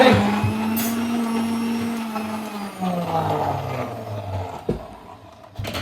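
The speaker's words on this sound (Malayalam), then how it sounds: "നല്ല പവറുള്ള മിക്സിയാണ്. Avocado shake അടിക്കേണ്ടത്." A powerful electric mixie blends avocado shake with milk and sugar, a loud steady motor whine that sags in pitch as the load thickens, running close and continuous with a few knocks near the end.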